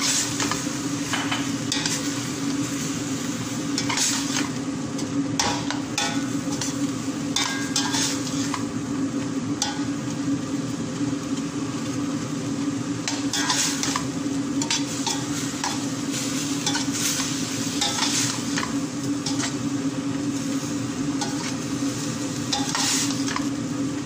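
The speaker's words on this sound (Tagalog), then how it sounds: "Halo ko siya." Ground meat, green beans and rice being stirred in a sizzling pan for an Arabic-style lunch, with a steady frying hiss and repeated scraping of a utensil against the pan throughout.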